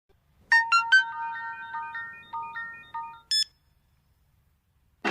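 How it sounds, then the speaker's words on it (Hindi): A mobile phone ringtone plays a bright, loud melodic sequence of descending tones from a call that goes unanswered in a dubbed South Indian action film, ending with a short high beep, then silence. "अब फोन नहीं उठा रहा है, 2 रिंग पर कट कर रहा है"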